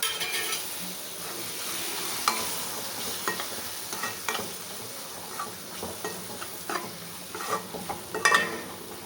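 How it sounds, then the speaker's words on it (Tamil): A spoon is stirred through chili, coriander and turmeric powder in a hot pan, giving irregular scraping clinks over a soft, continuous sizzle. No one speaks. "மிளகாய்த்தூள், மல்லித்தூள், மஞ்சத்தூள் மிக்ஸ் பண்ணிக்கலாம்."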